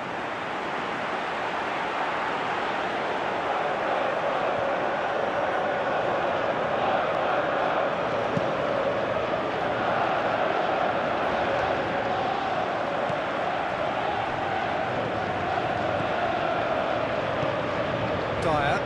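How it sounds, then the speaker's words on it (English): A Premier League derby crowd at Chelsea vs Spurs roars and murmurs in a dense, steady wash throughout, swelling slightly at times, with a commentator talking over it. "you can hear how the crowd are reacting to this too"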